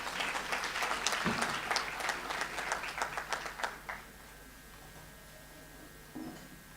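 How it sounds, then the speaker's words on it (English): An audience at a graduation ceremony applauds the Ongwediva Youth Choir, a dense burst of clapping that thins into scattered claps and stops near the four-second mark, leaving quiet room tone and a brief thump. "Can we give them a round of applause?"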